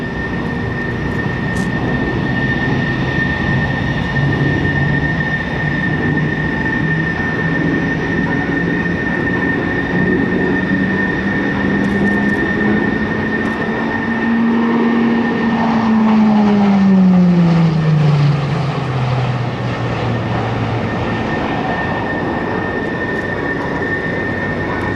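An E-2 Hawkeye turboprop at an air show carves a tight 360-degree turn at low altitude, its steady propeller drone rising and falling in pitch as it sweeps around, loud and continuous throughout with no talk.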